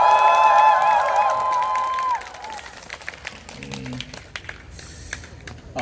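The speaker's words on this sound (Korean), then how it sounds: "박수 한 번 더 쳐주시겠나요?" A crowd at a political speech responds with raised voices and cheering, then scattered, uneven claps that thin out into sparse individual hand claps.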